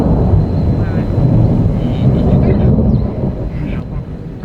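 Loud, rolling thunder from positive lightning strikes during a severe storm rumbles continuously and close by, with wind buffeting the microphone and faint voices in the background.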